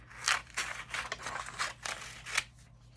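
Scissors cut paper for a collage in about seven quick, crisp snips, close and fairly quiet.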